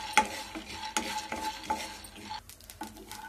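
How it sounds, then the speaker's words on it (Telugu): Peanuts dry-roasting in a pan while being stirred, with repeated scraping strokes and light rattling of the nuts under a faint steady hiss, close up. "పాన్ లో కొన్ని పల్లీలు వేసుకోవాలి. పల్లీలను దూరంగా వేయించుకుందాము."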